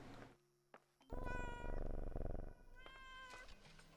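A cat meows in the horror video game Layers of Fear, a faint short call followed by a long, loud, drawn-out wail and then a softer trailing meow, with quiet ambience between.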